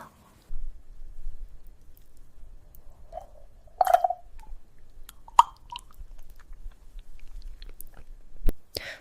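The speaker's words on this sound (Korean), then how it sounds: "물한 모금 마실게요" Someone pauses to sip a mouthful of water, giving faint, close mouth sounds with a couple of small gulps and wet clicks over a quiet, low background hum. No one talks.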